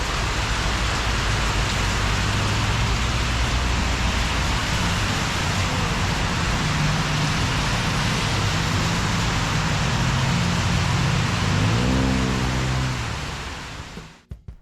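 Heavy rain pours down steadily during a motorcycle trip on a Yamaha Finn from Nonthaburi to Trat, a loud, dense roar with no talk, fading out near the end.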